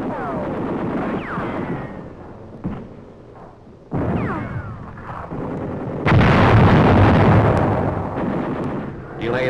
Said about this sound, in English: Delayed action bombs help to neutralize prepared positions above our troops.